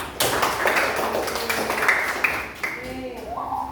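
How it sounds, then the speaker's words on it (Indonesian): A group of students claps hands together during a classroom teaching-practice lesson, a dense patter of claps that runs throughout with voices talking over it. "tepuk tangan sekali untuk kita"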